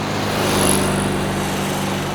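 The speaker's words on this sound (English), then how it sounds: "So their Volkswagen Beetle." A Volkswagen Beetle engine from a sound library, running steadily with a buzzy, high-revving drone and a thin top-end whistle, loud and close throughout with no voices.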